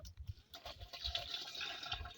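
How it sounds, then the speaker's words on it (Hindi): Liquid pesticide mixture is poured from a glass into a sprayer tank, giving a faint splashing, gurgling pour that runs steadily for about two seconds. "अब हम इसमें से फ़ी एक गिलासी इस तरह भरेंगे और इसको हम टैंकी के अंदर डाल देंगे।"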